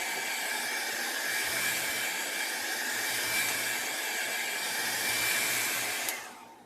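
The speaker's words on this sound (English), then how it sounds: "I'm going to use my dryer," A hair dryer blows over an alcohol and acrylic ink painting on taped-down paper, a steady loud whooshing roar that cuts off abruptly near the end.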